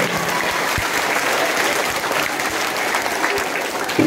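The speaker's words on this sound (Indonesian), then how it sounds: "Tepuk tangan dulu." Students at a boarding school in Timika, Papua, break into loud, steady applause that holds evenly through the whole stretch, a dense crowd of hands clapping close by.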